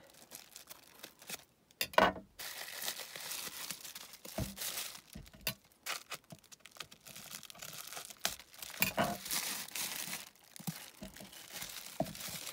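A taped parcel is opened with bursts of crinkling and tearing packaging, close and fairly quiet, in irregular rustles and rips with a louder tear near the start; no one speaks.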